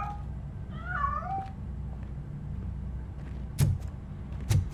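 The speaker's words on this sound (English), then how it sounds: "That cat must be hiding inside." A cat in the video game Robocop: Rogue City gives a drawn-out, wavering meow near the start, followed by quiet ambience and two sharp thuds.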